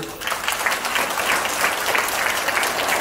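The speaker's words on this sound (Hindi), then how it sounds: "सर की तालियां ज्यादा हो गई, खुद के लिए कम" A crowd at an award ceremony in a hotel hall claps for itself, a full, steady round of many hands clapping that swells briefly and holds at a lively level.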